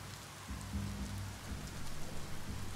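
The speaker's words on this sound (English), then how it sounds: "this is a rainy day in Biomutant" Rain falls steadily across a broad wash of hiss in the video game Biomutant. Low rumbling swells beneath it suggest distant thunder, and no one speaks.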